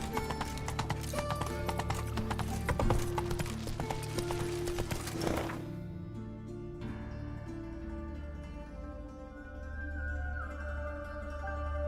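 Hooves of Roach, the horse in The Witcher 3: Wild Hunt, clip-clop in a steady trotting rhythm under game music, loud at first and then continuing more quietly as the score thins out.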